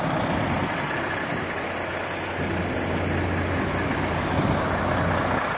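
Closed moving trucks idle at a warehouse in Jeddah, a steady loud low engine rumble that runs unbroken with no talk.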